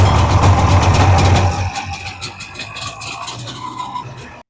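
An old Longtrack snowmobile engine runs loud and close, a rough, buzzy roar that drops to a lower, uneven idle partway through before cutting off.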